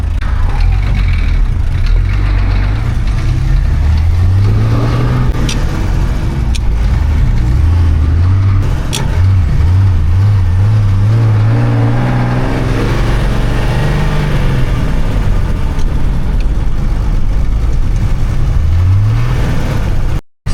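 A 1985 Ford Hino diesel truck engine revs up and settles back again and again, its deep, loud rumble rising and falling in pitch, heard close with no talking.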